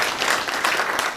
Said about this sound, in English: We can have another hand of applause to the VC.